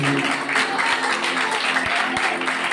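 A church congregation at a Christmas service claps along, a loud crowded patter of hands with a few sharper individual claps standing out, while musical tones hum faintly underneath.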